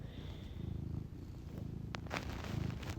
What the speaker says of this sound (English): let's see my cat purr